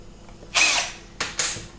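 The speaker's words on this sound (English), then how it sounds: "Just put a drill hole in and pile it on." A power drill whirs in two short bursts while drilling a hole during removal of a caravan microwave, a longer high-pitched spin followed by a brief pause and a second quick burst, close by.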